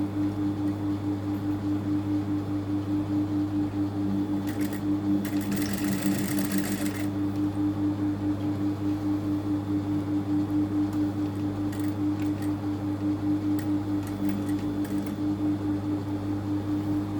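A sewing machine runs steadily, stitching a zip into a garment with turned, reinforcing stitches, a continuous close mechanical hum with a few brief louder bursts of needle clatter.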